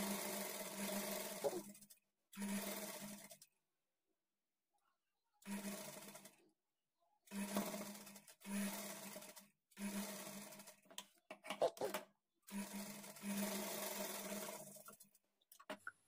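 A sewing machine stitches a frill into a blouse lining, running in several short whirring bursts separated by clear silent gaps, close and steady during each run.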